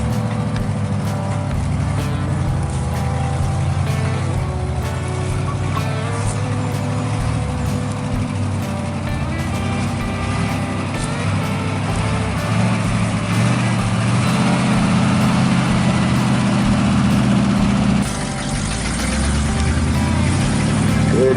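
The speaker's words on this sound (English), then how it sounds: "Good running old dump truck." An old dump truck engine idling steadily with a deep, rumbling low drone, loud and close, running alone without talk for the whole stretch.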